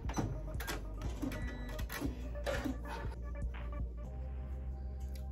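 A home sewing machine runs up close in a steady mechanical whir, with a rapid rhythmic clatter of stitching that slows and fades toward the end.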